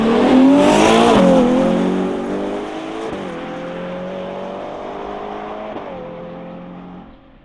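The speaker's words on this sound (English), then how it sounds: "The exhaust tone is masculine but not overtowering." Ferrari Purosangue with its stock exhaust accelerating hard on a run, a loud close engine roar climbing through several gear changes with brief dips between shifts, then easing off at the end.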